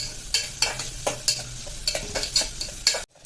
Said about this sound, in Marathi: आता कांदा आपल्याला परतून घ्यायचा आहे